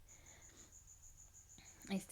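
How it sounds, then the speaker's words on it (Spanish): Steady high cricket chirping runs faintly through the background of an indoor space, a continuous thin trill with a brief louder rustle near the end. "Pensé que era en mi casa el grillo. No, es aquí"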